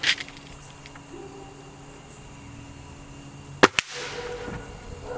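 A Gamo Magnum .22 pellet rifle fired outdoors: a sharp crack right at the start, then a single loud snap near the end followed by a quick second report, with quiet background between.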